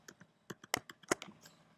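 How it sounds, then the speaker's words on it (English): Someone types on a computer keyboard, giving a quick irregular run of close, crisp key clicks with a few louder strikes and short pauses between bursts. "Just typing in the syntax here."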